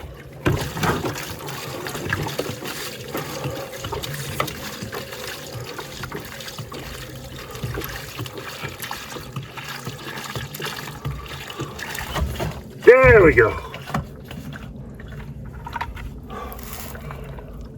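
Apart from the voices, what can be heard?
water filling a laundry container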